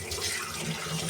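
Water trickles from a kitchen tap into a sink after dishwashing, a soft, close, continuous splashing flow.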